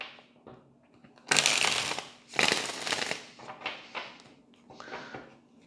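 Tarot cards being shuffled in three bursts of dry riffling and sliding card noise, with quieter handling sounds between them and no talking.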